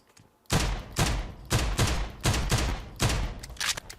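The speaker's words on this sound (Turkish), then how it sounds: "Bu nasıl tabanca efekti lan?" Pistol fire in the PUBG Mobile game: about six loud, close single shots at a steady half-second rhythm, each with a sharp crack and booming tail, ending in a few quicker shots.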